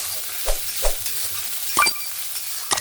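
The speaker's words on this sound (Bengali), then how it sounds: "এবার দিয়ে দেব কেটে রাখা পেঁয়াজ। পেঁয়াজটাকেও ভেজে নেব সুন্দর করে।" Chopped onion frying in a pan with browned garlic, a soft background sizzle broken by a few sharp scrapes and clinks of a spatula stirring, close and loud.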